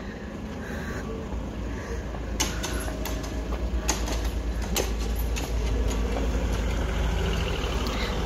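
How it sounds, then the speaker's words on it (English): A train rumbles past a city gate in Germany's Black Forest at a steady roar, with clattering wheel clicks and squeals riding over the low continuous rumble. "Oh, the train's coming."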